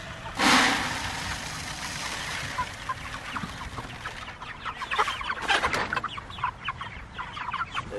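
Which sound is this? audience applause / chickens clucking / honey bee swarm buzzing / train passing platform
chickens clucking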